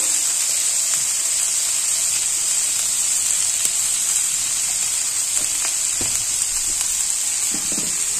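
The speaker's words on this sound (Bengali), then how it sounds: "এটাকে ভালো করে একটু ভেজে নেব। তার সাথে একটু পোস্ত দিয়ে দিলাম আর স্বাদ মতো লবণ" Ridge gourd peel fries with poppy seeds and salt in a pan, giving a constant loud bright hiss of oil with a few soft stirring touches, close and unbroken throughout.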